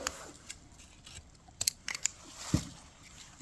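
Scissors snip wire off the back of a Christmas wreath, giving several quiet, close clicks and snips spaced irregularly, with faint rustling between them.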